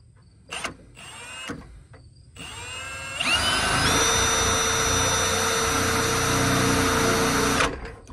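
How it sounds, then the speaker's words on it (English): A power drill whirs in short bursts, then spins up to a sustained high-pitched whine for several seconds before cutting off, drilling holes to mount a light bar on a Kawasaki Mule Pro-FX. "I'm just gonna drill holes and hopefully it's the right size"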